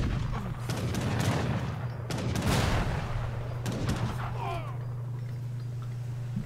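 Grenadiers fire in a video game as a rapid fusillade of muffled gunshot volleys over a steady low hum, with the shooting thinning out toward the end.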